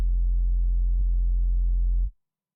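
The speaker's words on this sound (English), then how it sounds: "So here's a sub bass, which is just a sine wave." A pure sub bass sine wave, a steady deep tone with no overtones, holds loud and unchanging for about two seconds before cutting off abruptly into silence.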